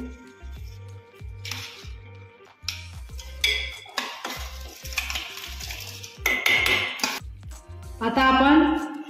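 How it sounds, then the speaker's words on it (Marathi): Basmati rice being stirred in a pot of boiling water for jeera rice, with repeated close clinks and scrapes of a utensil against the pot and bubbling, while a voice talks under a steady music-like drone. "आता आपण हलवून घेऊ"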